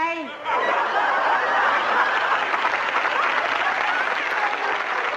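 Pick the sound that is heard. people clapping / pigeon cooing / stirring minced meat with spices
people clapping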